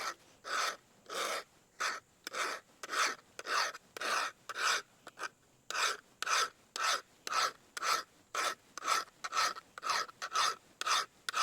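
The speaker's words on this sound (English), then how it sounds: "I'm just going to take my file and start moving it" A hand file sharpening the steel blade of a Mora knife, rasping in steady one-way strokes, about two per second, each a crisp scraping burst with short gaps between, close and clear with no talking.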